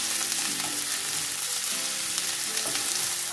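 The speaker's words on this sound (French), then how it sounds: "Bien chauffer l'huile. On ajoute les oignons." Onions fry in hot oil in a pan with a constant close, crackling sizzle and occasional stirring, and no voices over it.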